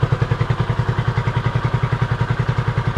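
A Honda CB250RS motorcycle idles close by, its single-cylinder engine thumping in an even, rapid pulse at steady volume, alone without talk.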